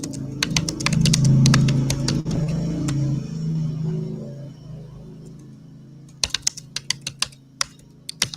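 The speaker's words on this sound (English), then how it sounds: "I know you can hear me typing. I push pretty hard on my keys." Hard, fast typing on a computer keyboard, with sharp clicking bursts at the start and again near the end, close and crisp over a low hum. There is no talking.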